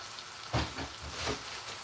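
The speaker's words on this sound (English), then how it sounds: "You stir this around because we don't want this to burn." Garlic and ginger paste fries in a pan while being stirred, a soft crackling sizzle with a couple of louder scraping swells from the spoon.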